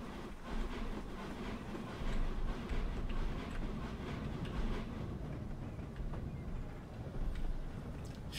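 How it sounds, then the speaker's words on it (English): An AI-driven train in Train Simulator on the West of England main line rumbles past with a steady heavy roll and rhythmic clatter of wheels over rail joints, fairly close and continuous throughout. "Should have an AI train come over that bridge."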